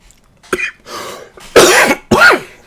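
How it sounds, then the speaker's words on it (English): A couple of harsh, close coughs with a throaty clearing sound before them, loud and isolated against near silence. "hate this cough."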